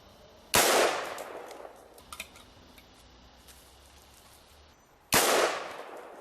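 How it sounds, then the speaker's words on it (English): Two sharp gunshots, about four and a half seconds apart, ring out against a lock during a firearms test with .22, 9mm and rifle rounds, each crack followed by a decaying echo over quiet outdoor background. "Several shots from a 22, several shots from a 9mm, and I think what really did it was several shots from a rifle."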